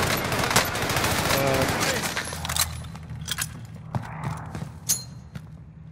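Enemy gunfire aimed at the player in a shooter video game: rapid bursts of automatic fire and sharp single shots crackling over a busy soundscape, then thinning into scattered loud cracks, with voices talking underneath.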